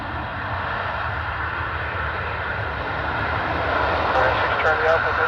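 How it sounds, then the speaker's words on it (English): A jet airliner's thrust reversers roar during landing at Dublin Airport with a tailwind, a steady, loud, broad rumble that swells slightly toward the end, with a voice speaking over it. "We're hearing a lot more reverser now with the tailwind behind them."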